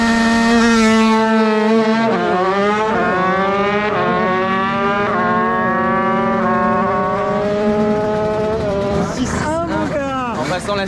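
A racing scooter engine screams through a drag run, its high whine climbing sharply through repeated gear shifts with brief dips between each rise, loud and close from start to finish.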